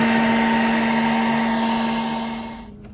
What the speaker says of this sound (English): put a blow dryer in here and just let it run